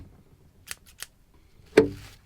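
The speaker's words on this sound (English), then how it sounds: "Plastic bottle cut out." Scissors cut through a plastic bottle in a few crisp snips followed by one louder crunching cut, close up with little else around, during boat maintenance work.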